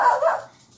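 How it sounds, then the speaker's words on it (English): A single short dog bark, close and fairly loud, tailing off quickly with no talking. "Forgive the barking dog."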